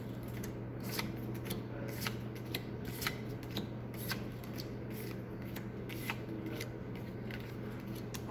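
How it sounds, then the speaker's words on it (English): Playing cards are dealt onto a table in soft, repeated flicks and slaps at a steady, unhurried pace, close by, over a faint constant hum in a quiet room. "I'm gonna put 4 cards down."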